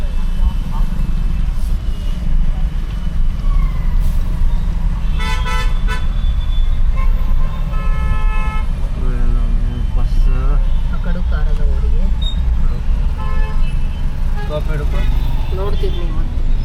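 Vehicle horns honk in busy road traffic with buses and auto-rickshaws, loud repeated toots of varying pitch over a constant engine rumble, with people talking throughout.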